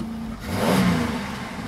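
A Dodge Grand Caravan engine revs at a dealership lot, rising to a loud mid-range swell and then settling back to a steady idle, with no one speaking.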